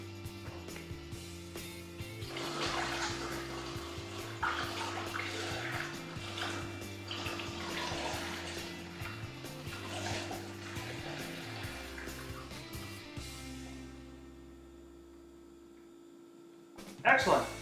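Hot beer wort for a first extract brew pours through a funnel into a carboy, a steady liquid rush lasting several seconds beneath a low mechanical hum before tapering off, with a brief knock at the end.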